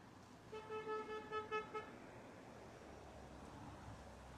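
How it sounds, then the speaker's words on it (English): A car horn honks in a rapid series of short toots over about a second and a half, fairly close, on a street in grey, bad weather, followed by steady background ambience. "Somebody's honking."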